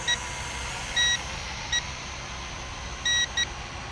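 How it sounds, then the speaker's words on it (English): Short, high electronic beeps chirp from a XIANGYU Falcon folding FPV drone transmitter, irregularly spaced, some single and some in quick pairs, over a faint background hiss. "I'm getting a lot of beeps from the transmitter."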